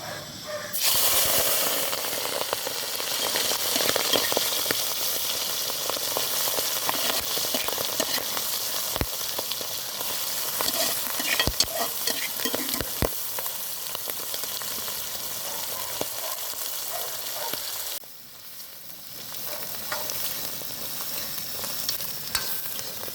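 Mustard seeds and clams dropped into hot oil in a pan, a loud, dense sizzling hiss that runs nearly the whole time, with scattered pops and a brief dip before the frying surges again.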